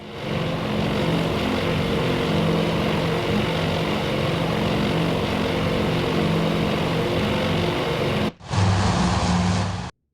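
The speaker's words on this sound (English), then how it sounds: "Meanwhile, the torpedo planes are also en route." Propeller-driven torpedo planes drone steadily in the naval strategy video game Task Force Admiral, a loud continuous engine hum that cuts out abruptly near the end and then resumes briefly.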